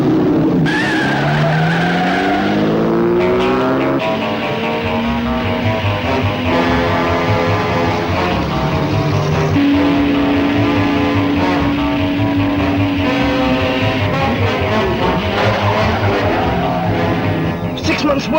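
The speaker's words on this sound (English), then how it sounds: "That imp has got the engine of a racing car under its hood." A Hillman Imp fitted with a racing car engine drives hard and skids, its engine revs rising and falling loudly and continuously alongside tire squeal.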